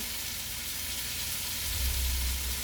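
Potato gnocchi blistering in a hot skillet give off a steady, close sizzle of frying, a continuous hiss that swells slightly near the end with no one talking.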